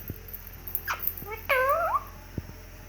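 A pet ringneck parrot gives a short rising and falling meow-like call in imitation of a cat, followed by faint clicks in a quiet room.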